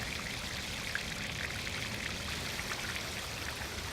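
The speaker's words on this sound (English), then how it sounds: "when the water is falling down, the sound is being enhanced by it falling down those fish scales" Water pouring steadily over a carved marble fish-scale chador cascade in a Mughal garden fountain, a constant close splashing rush with no voices.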